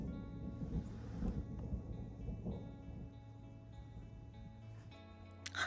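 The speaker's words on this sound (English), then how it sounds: "I'm hearing thunder a little bit around." Distant thunder rolling around a slow, budget camping site, a low continuous rumble with a few swells, faint and far off with no talking.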